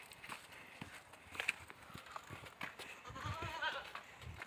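Goats on a small farm make faint scattered sounds, soft bleats mixed with shuffling hooves and light knocks, quiet and close, with no talk.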